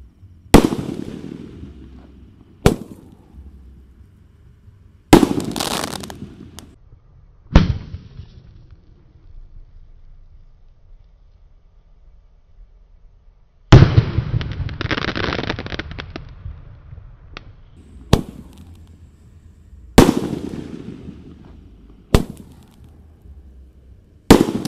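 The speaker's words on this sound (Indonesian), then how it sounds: "Jumbo guys, Roman candle terbesar." Jumbo Roman candle fireworks, the largest size, launched outdoors during an Eid al-Adha celebration: a series of about nine loud, sharp booming shots spaced a few seconds apart, each trailing off in a crackling decay, with one longer sizzling burst midway.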